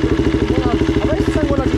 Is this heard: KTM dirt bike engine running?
yes